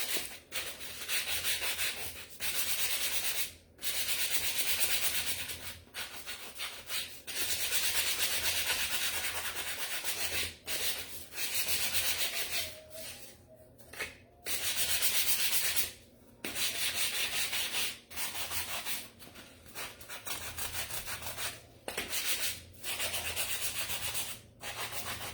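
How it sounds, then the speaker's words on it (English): Wooden toy truck wheels being sanded by hand, a steady rasping rub in repeated strokes with brief pauses between passes, close and fairly quiet. "And sand the wheels a little bit too."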